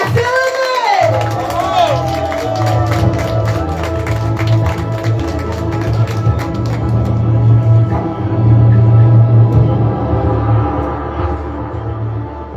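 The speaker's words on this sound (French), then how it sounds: "Je vous demande d'applaudir bien fort Louis-Léonce, le curieux, la Ferronnaise." An audience at a community conference applauds loudly and cheers, with dense clapping, whoops and shouts throughout and a voice speaking over the crowd near the start.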